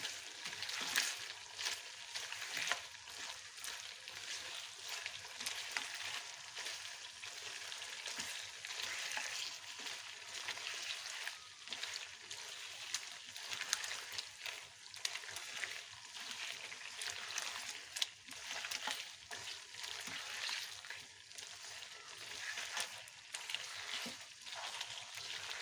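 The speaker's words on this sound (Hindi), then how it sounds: "ये देखिए हमारा मटन बहुत अच्छे से भून हो गया है और टमाटर भी इसके अंदर बहुत अच्छे तरीके से मैश हो चुके हैं।" Mutton shinwari karahi with mashed tomatoes frying hard in a pan, a dense continuous sizzle and crackle holding steady and close throughout, with faint stirring scrapes underneath and no voices.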